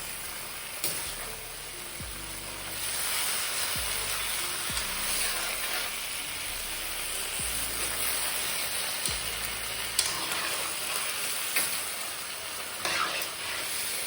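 Tofu stir-frying in a hot pan gives a steady, close sizzling hiss that runs the whole time, broken now and then by soft scrapes and clatters of stirring.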